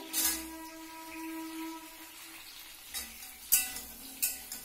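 Ridge gourd pieces fry in oil in a pan with a faint, low sizzle, broken by a few sharp clinks of a utensil against the pan.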